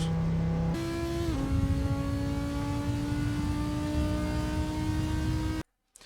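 Audi R8 GT4 racing car engine at full throttle in the Assetto Corsa video game, a loud steady high-pitched drone that shifts pitch with gear changes, continuous for several seconds before cutting to silence.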